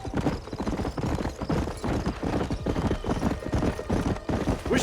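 A horse gallops in the Xbox 360 game Red Dead Redemption, its hooves drumming in a quick, steady, close clip-clop rhythm with faint background ambience.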